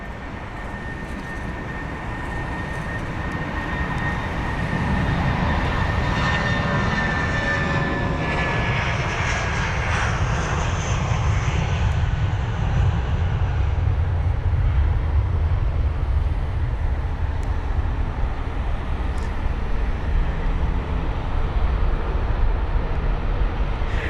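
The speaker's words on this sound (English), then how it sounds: "There's the 787, that would be the 8 Dreamliner." Boeing 787-8 Dreamliner jet at London Heathrow, its engine roar building within a few seconds and holding as a loud, steady broadband rumble with a faint whine, alone throughout.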